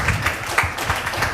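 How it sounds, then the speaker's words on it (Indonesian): Audience applause at an entrepreneurship talk show, a short burst of clapping from a gathered crowd, moderately loud and steady with some low rumble underneath. "Kita kasih tepuk tangan teman-teman"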